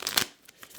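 A deck of playing cards being shuffled, a quick riffling burst followed by a couple of softer flicks, close and fairly loud with no talking.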